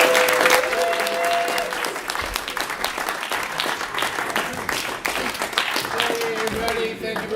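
An audience applauds an improv comedy group taking the stage at an improv festival qualifier. The clapping is loud, dense and sustained, filling the room without a break from start to finish.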